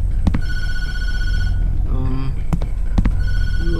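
A telephone rings in the Tattle Tail horror video game, with repeated electronic ringing bursts that are loud and close over a steady game background rumble.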